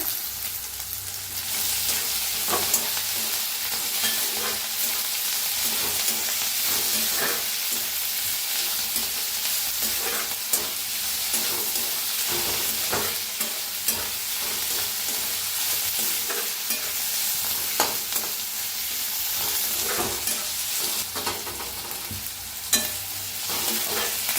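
Eggplant and vegetables for bharit roast in a hot pan, crackling and sizzling continuously up close while a utensil stirs and scrapes now and then, with no one talking.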